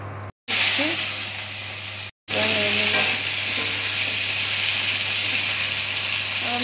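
Cumin seeds hit hot oil in a pan with a sudden loud sizzle that dips briefly, then settles into a steady crackling hiss that runs alone to the end.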